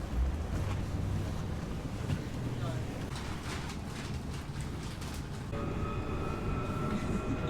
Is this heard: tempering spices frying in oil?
no